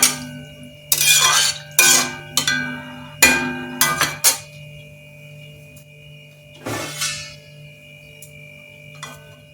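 A metal lid clatters and clinks onto a cooking pot of ridge gourd and potato, a cluster of sharp, ringing strikes followed by a single later clank over a steady low hum.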